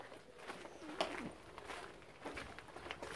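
Pigeons coo softly inside a castle dovecote, low repeated calls at a distance with faint rustling and no talk.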